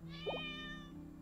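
A cat meows in a single drawn-out, tonal cry, close and clear over a steady background hum, with no talking.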